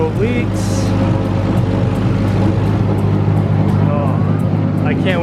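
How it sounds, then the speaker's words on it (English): A Nissan R32 Skyline engine runs at a steady idle close by, a constant low hum under a voice that talks throughout. "let's go ahead and start the Skyline now and bleed the power steering system"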